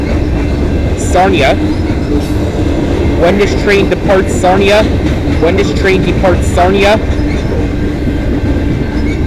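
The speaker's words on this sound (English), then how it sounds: "When this train departs Sarnia" A freight train rumbles loudly past with rhythmic clatter and occasional squealing wheels on the Dundas Subdivision in London, Ontario, while someone talks over the noise.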